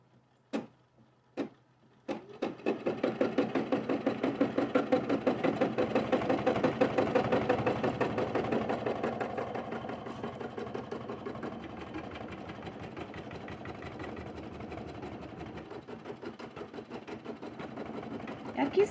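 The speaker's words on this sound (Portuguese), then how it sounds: "eu já coloquei o bastidor na máquina e ela vai fazer aqui uma costura prendendo aqui" Embroidery sewing machine stitching a tacking line to hold fabric in a hoop, a steady close mechanical whir with rapid rhythmic needle pulses, preceded by a few sharp clicks.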